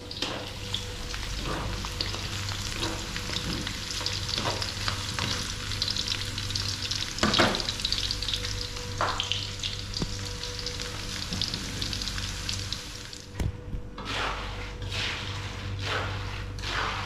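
Food sizzles steadily in a large pan while a utensil scrapes and stirs it in repeated strokes, close and continuous with occasional soft knocks.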